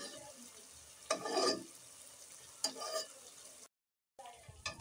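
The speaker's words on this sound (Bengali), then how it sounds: "মশলার সাথে মাছগুলো ভালো করে মিক্স করে কষিয়ে নিলাম।" Fish being stirred and fried with spices in a pan for a home-cooked meal, soft steady sizzling broken by a few louder scraping stirs, with a brief dropout of silence near the end.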